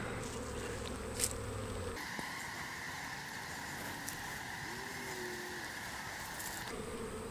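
Honeybees buzz steadily around an open, struggling hive while its frames are worked, a dense continuous drone close by with no talk over it.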